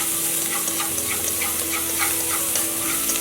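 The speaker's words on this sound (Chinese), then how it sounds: "锅内留底油，下青红椒末、蒜末炒香" Chopped green and red peppers with garlic stir-frying in a little leftover oil in a wok, a steady bright sizzle with light crackles and occasional clinks of the spatula, close and continuous.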